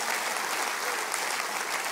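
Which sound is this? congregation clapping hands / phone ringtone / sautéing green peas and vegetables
congregation clapping hands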